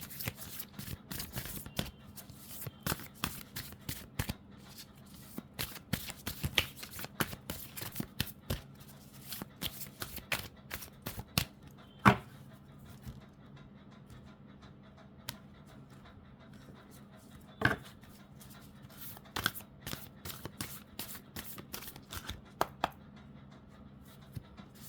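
Oracle cards for a tarot reading are shuffled and picked, giving repeated crisp riffling flicks and soft card slaps at an irregular pace, close and moderately loud over a quiet room background.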